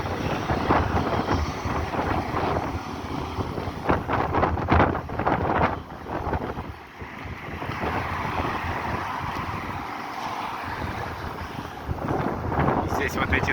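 Strong, cold, gusting wind buffets the microphone on Rudnev Street, a constant roar that rises and falls in surges.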